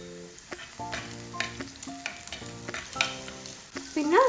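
Curry leaves and green chilies hit hot oil in a pan for a pork dish, raising a busy sizzle with stirring scrapes and brief tonal squeals over it.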